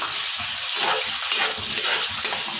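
Shrimp frying in a pan for a pansit malabon topping, with a continuous bright sizzle and crackle close up and faint stirring scrapes.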